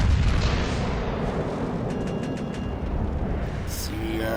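Ship guns fire in the naval battle game World of Warships Legends, a loud continuous low rumble of heavy gunfire and explosions filling the whole moment.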